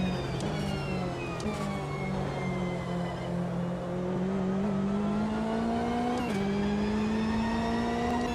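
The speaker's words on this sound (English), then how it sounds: "I find the Corvette sounds pretty good though" A Corvette engine in the racing game Automobilista 2 revs and holds a steady harmonic drone, its pitch climbing slowly with brief shifts, continuous and loud with no talk.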